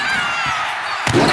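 A wrestler's splash in the WWE 2K25 video game lands with a single heavy slam on the mat near the end, following a steady crowd roar and faint thuds.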